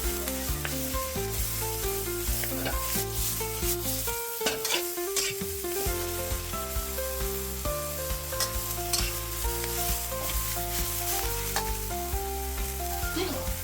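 Loud, continuous sizzling and clattering of Chinese kale being tossed in a hot wok, with rhythmic scraping and stirring throughout.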